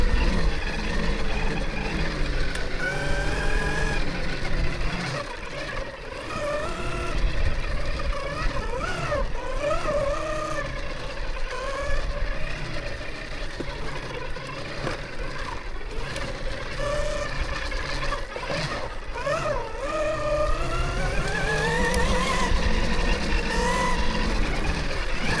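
An MX30 electric dirt bike rides up a trail, a continuous loud whine with shifting pitch and rumbling wind and terrain noise throughout, with no talking.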